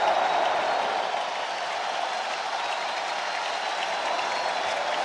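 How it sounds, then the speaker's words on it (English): A baseball crowd at American Family Field cheers steadily during a 3-2 count in a Diamondbacks–Brewers Wild Card game, a dense, sustained roar of applause and voices filling the ballpark without letup. "here comes the crowd at American Family Field"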